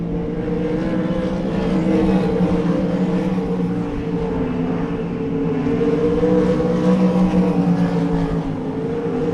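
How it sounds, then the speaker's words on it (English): Race cars roar continuously at a speedway during a heat race, a dense, droning engine sound from several cars that holds steady without any voices. "Laps winding down here in heat race number 2."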